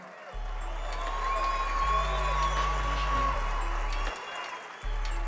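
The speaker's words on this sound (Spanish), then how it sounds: "Aplauso entonces para la zona del medio campo de la América de Cali." At an official squad presentation for América de Cali, a crowd applauds the midfielders with moderate, somewhat distant clapping and some cheering. A steady low electronic hum from the sound system starts and stops underneath.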